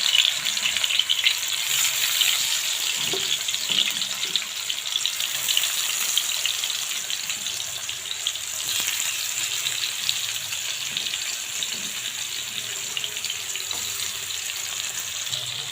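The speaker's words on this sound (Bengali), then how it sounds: "এই যে আমার মাছটা দেওয়া শেষ এখন আমি লাল লাল করে ভেজে নিচ্ছি" Fish frying in hot oil for a home-style fish fry, with a steady, bright sizzle and crackle that runs unbroken and fairly close for the whole stretch. No one speaks.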